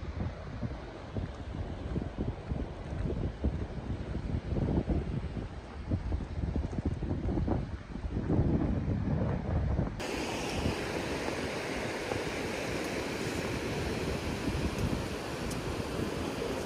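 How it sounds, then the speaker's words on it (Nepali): A river rushes along the North Annapurna base camp trail, a continuous broad wash of flowing water that holds at a moderate, even level from start to finish with no voices. "त्यहाँ खोलाको साउन्ड यस्तो आइरहेछ"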